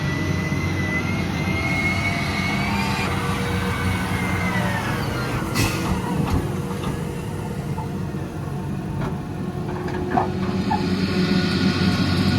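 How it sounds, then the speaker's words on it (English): A big old tractor engine drones steadily throughout during silage harvest, a low rumbling motor with a constant loud hum, close by and without pause. "It's a big old tractor, but Andrew can put it through most gateways"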